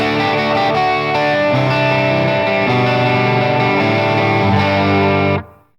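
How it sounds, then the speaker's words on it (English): Crunchy overdriven electric guitar chords ring out loud and sustained, shifting between a few chords with gritty breakup before cutting off abruptly. "overdrive can be crunchier like this"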